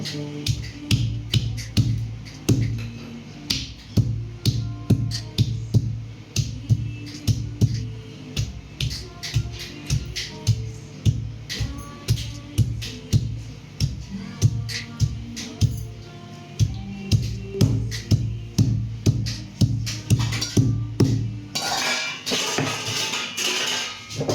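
Garlic, green chilies and coriander ground on a traditional stone slab: a steady rhythm of sharp stone-on-stone knocks and taps, close and loud, continuing for the whole stretch, with no talking.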